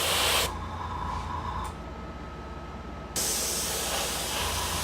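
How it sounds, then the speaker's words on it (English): An airbrush sprays yellow paint onto a Thunderhawk model, a steady close hiss that cuts out briefly in the middle and then resumes at full strength. "Try to spray it out a bit."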